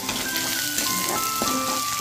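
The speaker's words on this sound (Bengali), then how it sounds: "এটা আমার 1 মিনিটের মতো ফ্রাই হয়ে গেছে" Bhetki fish fries in a pan with a steady, close, crackling sizzle that keeps up without pause over low kitchen background.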